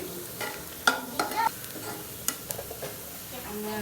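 Onion, garlic and chili tempering browned in oil in a home kitchen crackles and sizzles near the pan, with several sharp spatters and scraping stirs over a steady hiss, all without talk.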